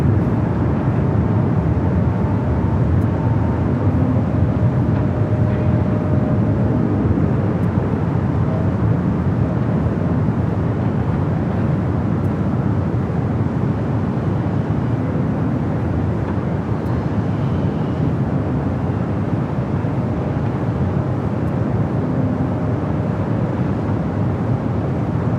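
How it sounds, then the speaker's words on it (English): A Delta A321 airliner bound for Cancun takes off on runway 24 left at Los Angeles airport, a broad, steady jet roar heard from a distance that holds throughout under wind noise, with no voices. "the Delta E321 heading to Cancun. Now rolling down the 24 left"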